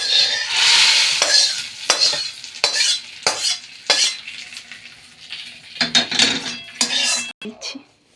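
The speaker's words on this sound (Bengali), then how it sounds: "এখানে শুকনো লঙ্কা আর জিরে ভেজে নিচ্ছি" Dry red chillies and cumin fry in a pan, crackling and sizzling while a spoon stirs and scrapes against the metal in repeated strokes, loud and close, with no talking.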